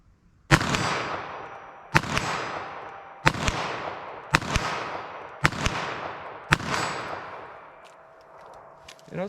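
.22 WMR revolver with a 3-inch barrel firing Speer Gold Dot ammunition: six sharp, loud shots spaced about a second apart, each with a short ringing decay, heard alone.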